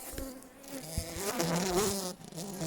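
Honeybees buzzing at a beehive, a dense close hum of many wings with individual bees droning higher and lower as they pass, steady and moderately faint, with no talk.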